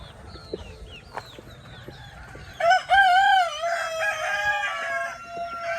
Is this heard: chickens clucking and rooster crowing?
yes